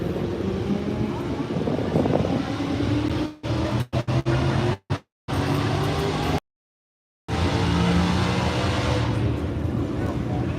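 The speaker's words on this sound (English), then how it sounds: "And out here you get to hear the engines rumble." Classic Ford Mustangs, including a green Shelby, rumble outdoors at a Pigeon Forge Mustang car show, a low steady engine drone mixed with wind noise on the microphone and broken by brief dropouts.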